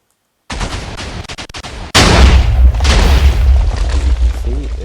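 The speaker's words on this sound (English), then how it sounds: "So let me fire." Minecraft TNT cannon firing, a crackling burst of rapid pops followed by a loud booming blast and rolling explosions that fade out.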